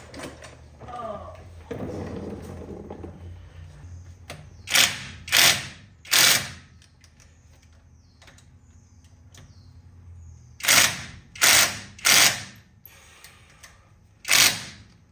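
A ratchet works on starter bolts under a rusty long-bed C10 truck, with short bursts of rapid clicking in two groups of three and a final burst, close and sharp, between quieter rustling and shuffling.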